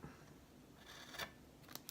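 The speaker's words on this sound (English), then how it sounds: "I'm going to take my scissors," Scissors snip through crochet yarn ends, two or three quick, faint close-up cuts in a quiet room with no talking.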